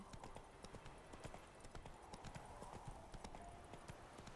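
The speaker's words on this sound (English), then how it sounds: "Come here, Roach. Excellent. Go, go. Good horsey" Hooves of a horse in The Witcher 3 clip-clop in a steady running rhythm, close and continuous, with no talking over them.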